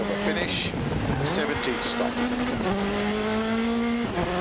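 The VW Polo R5 rally car in DiRT Rally 2.0 drones along a Poland stage, its engine note holding steady then shifting with gear changes and brief tire noise, while someone talks over it.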